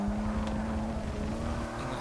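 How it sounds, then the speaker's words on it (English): A 1995 BMW 850CSi V12 engine in Forza Motorsport 6 hums steadily and smoothly, loud and close throughout with a constant drone. "Engine also sounds really good as well. It's silky smooth as you'd expect from a V12"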